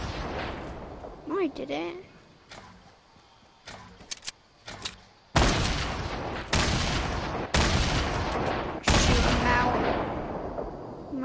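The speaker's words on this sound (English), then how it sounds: "I'm shooting grenades" Grenades fired in Fortnite, a series of loud booming blasts that grow denser and heavier toward the end, with a brief spoken remark early on.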